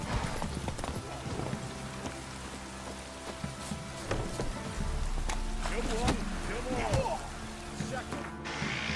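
Roach the horse's hooves clip-clop steadily while galloping in The Witcher 3, a quick, rhythmic beat held close up through the whole stretch, with a voice talking over it.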